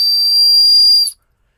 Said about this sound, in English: It is a dog whistle.